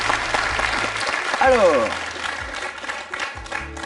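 Studio audience applause on a French television quiz show, a short burst of clapping heard close alongside a voice speaking over it.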